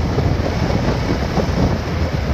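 Strong wind buffets the microphone outdoors in a subdivision, producing a loud, continuous rumbling roar with no voices.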